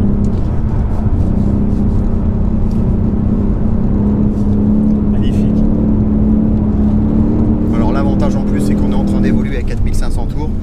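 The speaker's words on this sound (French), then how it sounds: "on va se faire un petit changement de vitesse" A Ford Mustang GT V8 engine drones steadily close by, then its pitch drops and shifts as it changes gear, with people talking over it.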